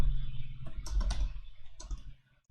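A few clicky keystrokes tap out a package name on a computer keyboard, close and fairly clear over a low background hum, then stop short.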